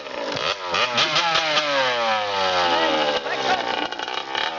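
A dirt bike engine revs up and down nearby, rising and falling whines from a mid-sized motor, with people talking over it.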